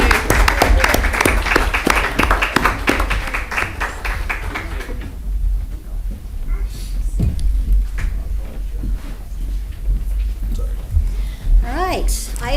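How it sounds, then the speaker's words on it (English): An audience at a meeting bursts into dense, loud applause that gradually thins into scattered claps, while people talk over it. "Another round of applause."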